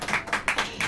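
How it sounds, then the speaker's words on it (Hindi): A church congregation claps in unison, about five quick, even claps in one second, moderately faint and with no talk over it. "ताली बजाओ।"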